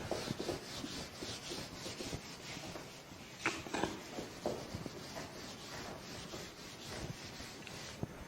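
A duster rubs writing off a classroom board in quick back-and-forth strokes, a soft continuous scrubbing with a few sharper knocks, fairly faint and with no talk over it.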